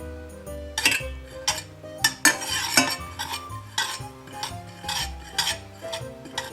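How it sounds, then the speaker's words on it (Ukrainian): Semolina cooks in milk while a spoon keeps stirring it in a pot, giving rhythmic scrapes and light clinks of metal on metal. A steady tonal background runs underneath. "Виливаємо молоко та потроху додаємо манку та постійно помішуємо, щоб не взялося комком"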